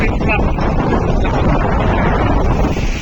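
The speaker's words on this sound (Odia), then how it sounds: "ପବନ ମାଡ଼ ଜୋର ଯା ଆସନ୍ତୁ ଦେଖନ୍ତୁ, ଏବେ ପୁରା ଜୋର ଆରମ୍ଭ ହେଇଗଲା ବର୍ଷା ଆରମ୍ଭ ହେଇଗଲାଣି" Strong gusting wind from a nor'wester storm over Bhubaneswar as rain begins, a loud continuous roar buffeting the microphone.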